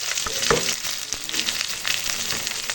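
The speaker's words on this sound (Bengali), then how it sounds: "এখন তেলের ওপর দিয়ে দিলাম পেঁয়াজ" Chopped onion sizzling and crackling steadily in hot oil in a pan, close and continuous with a few sharper pops, no voices.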